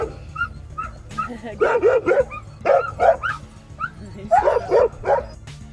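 A dog barks and yips in short bursts near a pastured sheep flock in rural northern Greece, the barks clustering in two volleys over a steady low background hum.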